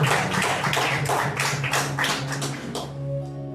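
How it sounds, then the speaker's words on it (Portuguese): A church congregation applauding at a Sunday service, steady dense clapping from many hands that is loud and sustained, then thins toward the end under a low held organ or keyboard tone. "Vamos aplaudir o Senhor por essa palavra maravilhosa."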